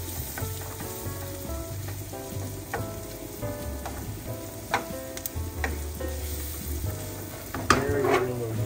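Chipotle sautéing in a hot pan, a steady close sizzle with bursts of crackle and occasional stirring scrapes and utensil clinks throughout, no voices.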